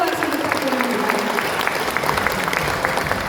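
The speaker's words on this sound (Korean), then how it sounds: "뜨거운 박수 부탁드립니다." An audience applauds at a ceremony marking ten years of ferry operations management, a steady wash of clapping that holds for a few seconds with faint voices mixed in.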